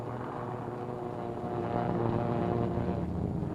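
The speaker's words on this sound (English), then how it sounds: "Another B-25 to join the formation circling over the task force until all the 16 planes can get into the air." B-25 bomber planes circling in formation over a naval task force, a continuous propeller-engine drone that swells slightly louder partway through, heard alone.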